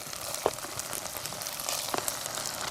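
Chopped porterhouse steak frying with onions in a pot makes a soft, even crackling sizzle, with a few sharper pops and spatters close by.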